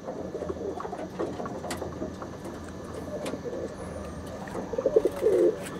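Andhra and Madrasi pigeons coo softly in a loft amid low background noise, with a louder burst of throaty cooing near the end.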